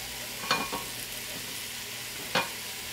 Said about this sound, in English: Once that's had a minute for the onions to soften,